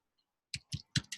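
Four quick, crisp key clicks from a computer keyboard, close and distinct against near silence, spaced unevenly within a second.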